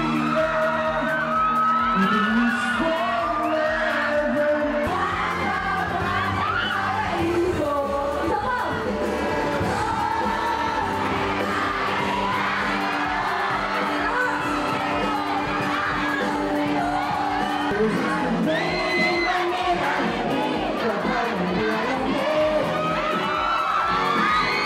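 Festival concert crowd at the 4th Agten Tupi Festival screaming, cheering and whooping loudly and continuously as fans react to performers, with music and shouting blended throughout.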